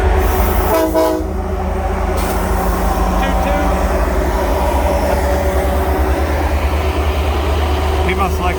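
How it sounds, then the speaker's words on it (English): A heavy train hauling three locomotives rumbles steadily past with a loud horn blast early on, the heavy rolling drone continuing throughout while voices talk over it. "There's a choo-choo."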